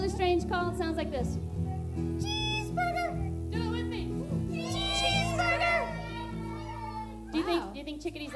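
A person's voice imitates a chickadee's strange call with rising, squeaky, meow-like whistled notes, repeated several times over a steady background hum, close and fairly loud.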